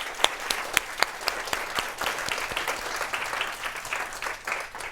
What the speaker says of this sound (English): So I think we should give the organizers a round of applause.